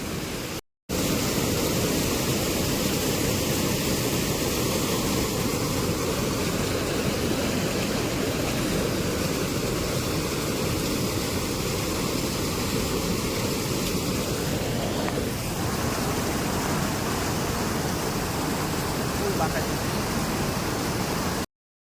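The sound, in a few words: rushing floodwater after heavy rain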